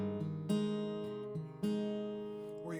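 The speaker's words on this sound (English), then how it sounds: "Often I'll do a bass note, 4th string, and then pick the 3rd and 2nd at the same time" Guitar picking on a Christmas carol: a bass note on the fourth string followed by the third and second strings struck together, ringing close and clear in a few slow repeated groups, with no voice.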